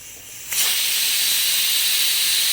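Pressure cooker releasing steam after three whistles with the gas turned off: a sudden loud, steady hiss that starts about half a second in and keeps going without letting up.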